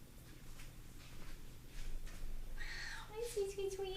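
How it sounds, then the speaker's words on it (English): A pet cat named Little D meows near the end, a short rising call at moderate volume over quiet room noise, with a few faint soft sounds before it. "So if you hear any meowing, it's her."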